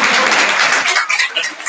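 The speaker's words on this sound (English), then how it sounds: "Give that round of applause, guys." Audience applause at a time management masterclass, a brief burst of clapping that starts full and thins into scattered claps within under two seconds.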